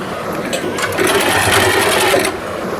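A sewing machine stitches fabric for a lehenga with a steady mechanical whir. It speeds into a louder, faster run in the middle, then slows again.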